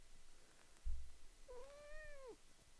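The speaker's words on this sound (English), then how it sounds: "Aw, here's a sweet kitty." A single drawn-out cat meow, rising then falling, close by and fairly clear, preceded by a soft thump over quiet room noise.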